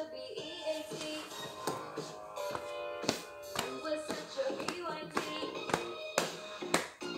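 Repeated hand claps at an uneven pace, fairly close and sharp, over a busy background of other tapping and movement sounds.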